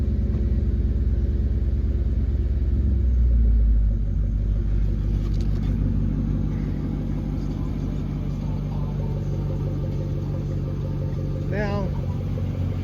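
A straight-piped 2002 Mercedes CLK430 that had sat unused for a couple of years starts and settles into a loud, deep, steady rumble, running close by with a voice talking over it.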